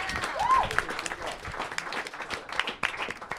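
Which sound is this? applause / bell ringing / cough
applause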